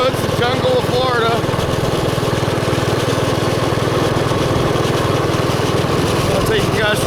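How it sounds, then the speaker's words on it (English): A mini bike engine runs steadily close by in a wooded Florida lot. A loud, even small-engine buzz holds for the whole stretch with a slight rev near the end. "I'll take you guys for a little ride this morning on the mini bike. Got one running."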